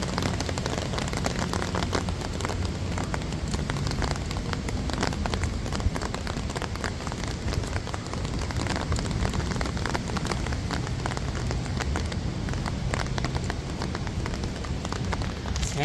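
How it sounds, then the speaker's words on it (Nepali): Rain pours down at Henderson Waves pedestrian bridge in Singapore, a constant close hiss of drops spattering on surfaces, steady and loud with scattered sharper drips and no talking. "पानी परिरहेको मस्त पानी परिरहेको छ"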